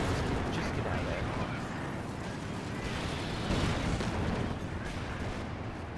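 In Company of Heroes 2, an artillery barrage rumbles as a dense, continuous roar of booms and blasts, with heavier impacts rising partway through and a voice speaking over the top.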